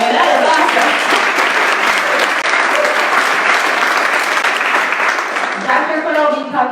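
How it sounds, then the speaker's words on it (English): Sustained, loud audience applause fills a lifestyle medicine symposium hall, steady dense clapping from start to finish with a few voices mixed in. "go ahead, clap for that"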